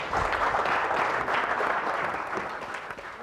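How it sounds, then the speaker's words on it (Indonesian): Studio audience at an Indonesian TV youth show breaking into dense, continuous applause that is loud at first and then slowly tapers off. "Oke, tepuk tangan dong."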